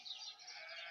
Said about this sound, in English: Sheep are dropping their lambs, if you're wondering what this noise is.